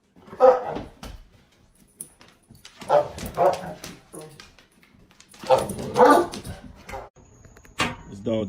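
A dog barks in short yapping bursts, a few clustered barks at the start and two louder volleys in the middle, with a whine at the end, close up and alone without talk.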